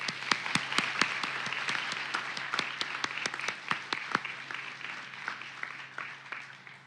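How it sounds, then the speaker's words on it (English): Applause at a Michigan Supreme Court special session starts with sharp, distinct hand claps close by, then softens into a thinner, fading patter as the room quiets. "I'd like to give her a round of applause."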